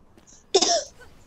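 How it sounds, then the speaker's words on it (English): A single short cough from one person, loud and close, standing alone against near silence during a Dungeon Defenders 2 gaming session. "It's just a cough."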